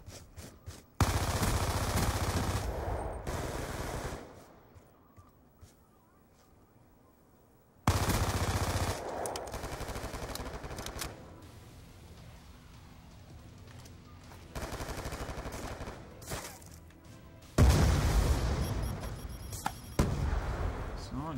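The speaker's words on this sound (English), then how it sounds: "Someone is shooting me." Bursts of automatic gunfire and single shots from a Call of Duty: Black Ops II free-for-all match, loud volleys alternating with quieter stretches of game sound, with a voice talking at times.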